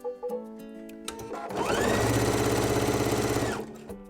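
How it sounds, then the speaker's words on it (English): A sewing machine with a quarter-inch foot stitches quilt blocks together. It runs in a steady, loud, rapid whir for about two seconds, framed by a few clicks and handling sounds before and after. "I have the 1/4 inch foot on my machine, and I'll just go ahead and stitch"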